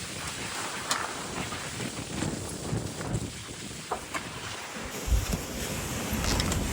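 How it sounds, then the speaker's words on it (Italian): Strong wind on arrival in Lanzarote buffets the microphone, a continuous rumbling roar that swells toward the end, with no clear voices. "Madonni, che vento."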